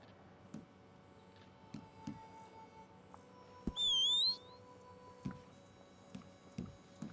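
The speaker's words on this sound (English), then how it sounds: "Whistle." A character in Red Dead Redemption 2 Online gives one short, rising whistle, clear and fairly close, lasting about half a second over faint clicking and background ticks.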